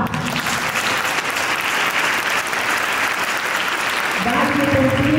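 A school audience at a Christmas concert by a small youth orchestra applauds a student, with steady, full clapping that holds throughout and a voice emerging over it near the end.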